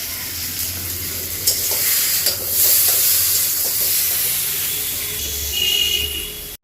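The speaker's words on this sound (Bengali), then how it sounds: "এখানে মাছগুলো ভেজে নিলাম" Fish fries in a pan with a loud, close, continuous sizzle and hiss, broken by scattered spits and pops, then stops abruptly.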